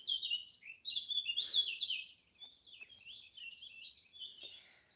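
Several small birds sing and chirp outdoors in bright, overlapping phrases with brief pauses, fairly close and clear against a quiet background with no talking.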